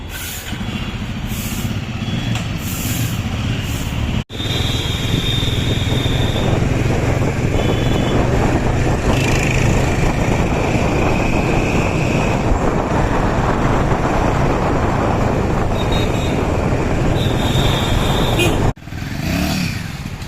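A Royal Enfield Himalayan 450 motorcycle on a test ride drones steadily for about twenty seconds, engine hum mixed with heavy wind rush against the microphone, loud and close, with brief cutoffs near the start and end.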